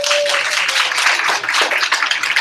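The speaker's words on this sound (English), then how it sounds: "Would you like to give a big round of applause for our chef?" Audience applause for a chef at a College Street event, a dense, steady wash of many hands clapping together, loud and continuous throughout with no talk over it.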